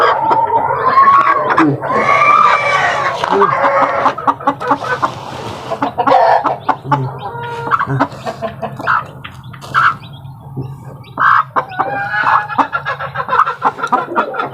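Hens clucking and chicks peeping close by, busy overlapping calls with occasional squawks throughout, a steady low hum underneath.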